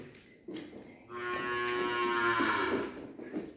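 A Khillar cow on a cattle farm lets out a single long, loud moo close by, rising and sustained for about two seconds against quiet farmyard background.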